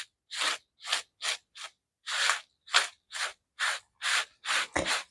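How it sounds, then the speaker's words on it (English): Salt scraped off a watercolor painting, about a dozen short, rhythmic, raspy strokes at an even pace, close and fairly quiet, with no talking. "let's scrape some of this off"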